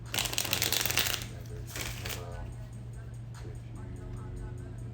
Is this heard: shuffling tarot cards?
yes